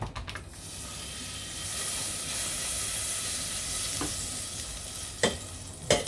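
Butter melting and sizzling in a pan before onions go in, a steady, moderate frying hiss close by with a few sharp clicks and clatters of utensils.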